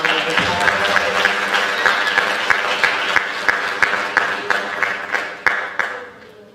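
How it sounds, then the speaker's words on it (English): A graduation ceremony crowd applauds steadily after a chamber choir performance, a dense wash of claps with a few sharper individual claps standing out as it gradually thins toward the end. "Let's give them a round of applause."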